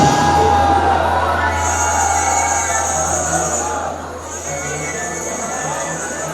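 Audience at a university stage program at TMU cheers and whoops in a steady crowd roar, with shouting voices and babble, under a loud sustained hum and a high tone; clapping is not distinct.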